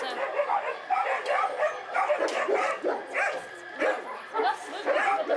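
Several dogs at an animal shelter bark, yip and whimper in a steady overlapping chorus, close and loud throughout with no gaps.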